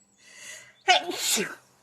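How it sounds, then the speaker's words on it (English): A person gives a single sharp sneeze with a brief breathy intake before it, close and alone indoors. "Oh my god, I'm gonna sneeze."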